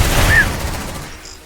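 A grenade goes off in the Aliens: Dark Descent video game, a loud close blast with a heavy low-end thump that rolls off into a fading rumble over about a second.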